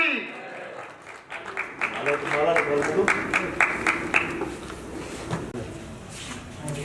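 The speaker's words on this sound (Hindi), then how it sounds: "स्वागत करेंगे तालियों के साथ में" A seminar audience claps steadily for several seconds, a dense patter of hand claps with a few voices mixed in.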